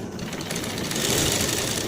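A sewing machine stitching the front part of a pair of pants, a steady continuous whirring hum that runs without pause, close and fairly loud.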